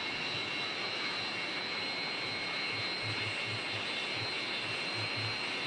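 Su-27 jet fighter engine roars during flight, a steady, loud broadband rush with a constant whine from inside the cockpit and no voices.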